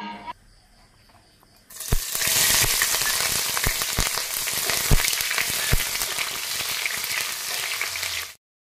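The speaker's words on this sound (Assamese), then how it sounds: "এয়া মই পিঁয়াজখিনি ব্ৰাউন কালাৰ নোহোৱালৈকে অকণমান ভাজি আছোঁ" Onions fry in a pan toward browning: after a quiet start a loud sizzle bursts in and holds steady with scattered sharp crackles and pops, then cuts off abruptly near the end.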